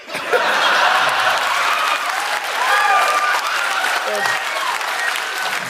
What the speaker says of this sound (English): I think they're just applauding the payoff.